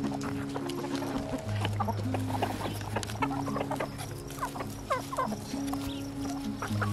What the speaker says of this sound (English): we've been taking it and giving it to our chickens